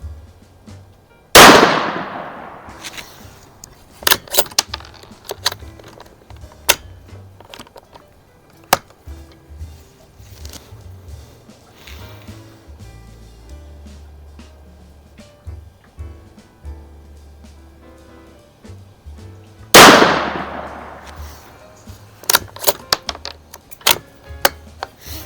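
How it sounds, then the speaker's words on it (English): Two sharp, loud rifle shots from a Savage B-Mag in 17 WSM firing Hornady ammunition at a range, spaced well apart, each ringing out before fading, with clicks and handling noises between them. "I'm going to be shooting at the lower right bullseye there at"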